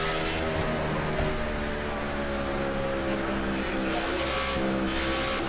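Sustained race car engine drone from NASCAR '15 during a lap at Dover International Speedway, a steady high whine with harmonic tones shifting slightly in pitch and holding a constant loudness, heard without talk.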